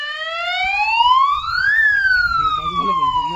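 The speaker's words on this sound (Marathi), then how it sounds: "ह्या अशा प्रकारचे मोठमोठ्याने सायरन वाजायला सुरू होतात" A loud security siren at a jungle villa sounds at night: one rising, then falling wail that sweeps up and down steadily, with faint low rumbling and voices underneath toward the end.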